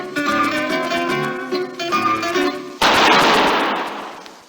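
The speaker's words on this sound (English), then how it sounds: "That was the shot that killed Harry Lime." A single loud, sharp gunshot effect from a radio drama about Harry Lime's killing in a sewer beneath Vienna, bursting in abruptly after zither music and then decaying with a noisy echoing tail.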